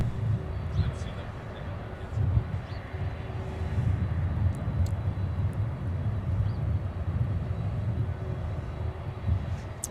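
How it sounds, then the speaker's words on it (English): A Southwest Airlines plane taking off at Minneapolis–St. Paul airport, heard as a steady low, rumbling jet roar that holds for the whole stretch, with faint radio-style talk over it. "Southwest now getting airborne"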